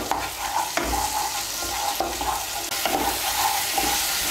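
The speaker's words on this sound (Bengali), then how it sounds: "দিয়ে আমি এখন মশলাটাকে ভালো করে কষিয়ে নেব" Spice paste sautés in a pan for a vegetarian soybean and potato curry, a loud steady sizzle with repeated rhythmic spatula strokes scraping through it, close by and with no talking.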